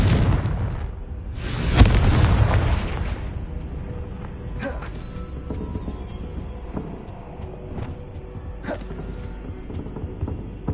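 Casting the Confringo explosion spell in Hogwarts Legacy sets off a loud fiery blast with a deep boom, followed by a crackling, rumbling decay and scattered debris hits that fade over several seconds.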